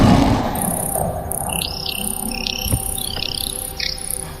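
Crickets chirp in the video game Indigo Park, a steady nearby insect trill with a faint ambient hum and occasional soft clicks, no talking.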